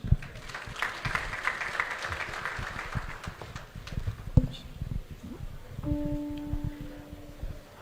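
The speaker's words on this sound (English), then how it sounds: "Another round of applause to the President of the Football Association of Malawi." An audience at the Football Association of Malawi awards ceremony applauds its president with lively, uneven clapping that thins toward the end as sustained musical tones come in.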